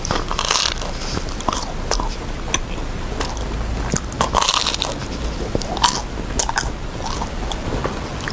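Bites and chewing of a ham and cheese sandwich, close and crisp, with repeated crunchy bites and soft mouth sounds over a steady background hiss.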